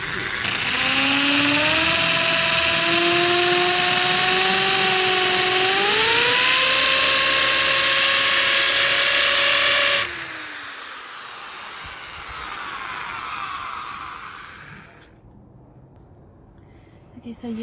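A drill whines loudly and continuously, its pitch rising as it bores drainage holes in driftwood for succulents, then cuts off to quieter handling noise and a softer motor hum.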